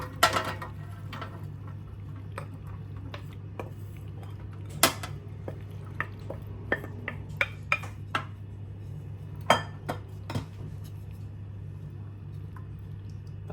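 Pasta being tipped into a baking dish while assembling bacon mac and cheese: scattered light clinks and clatters of cookware and utensils, quiet and close, with a steady low hum behind.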